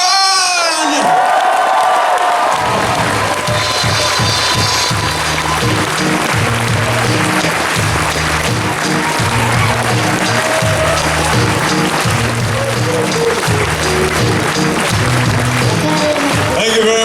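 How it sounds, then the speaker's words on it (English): A crowd at a closing ceremony claps and cheers continuously under loud amplified music, with whoops rising over the din and an announcer's voice briefly at the start. "Ladies and gentlemen, keep your applause going."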